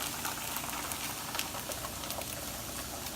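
Onion cooking in a hot pan on a high flame, with bacon added: a steady, dense sizzle and crackle that holds at an even level throughout, close by and without talk.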